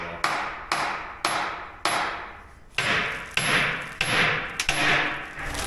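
A hammer drives metal mounting pins into a Jeep exhaust, striking about ten sharp, ringing blows at a steady pace, each leaving a brief metallic ring, loud and close with no talking.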